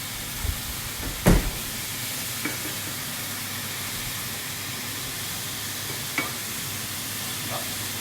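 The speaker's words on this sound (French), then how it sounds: "Retournons le lard." Bacon sizzles steadily in a pan, a constant bright hiss with a few sharp clacks and scrapes as the strips are turned over.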